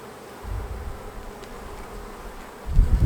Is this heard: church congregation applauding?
no